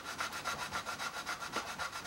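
A reed held on a cradle is sanded in quick, even back-and-forth strokes, a dry, close rasping with a regular rhythm and no voices.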